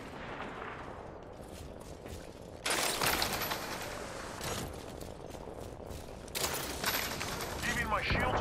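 Bursts of rapid gunfire in a battle royale video game, two loud volleys standing out over a steady background of game noise, with broadband crackle in between and a voice talking in places.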